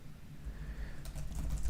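Fingers type on a computer keyboard, giving a short burst of light, quick key clicks over a quiet room hum.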